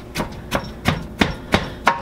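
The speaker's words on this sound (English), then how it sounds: "You want to get in here with your bench scraper, and you just want to start chopping these things together." A bench scraper chops apple pie filling into bread dough on a work surface, six sharp, evenly spaced knocks about a third of a second apart, close and distinct.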